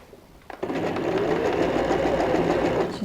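A sewing machine stitches a handbag side panel, starting after a quiet moment and then running steadily with a fast, close, even whirring clatter.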